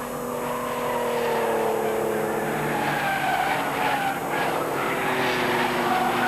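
Porsche race cars in a 1989 club championship race roar past with a steady, loud engine drone and tyre noise. Pitch shifts slightly as the more powerful car pulls out of a corner, and there is no talk.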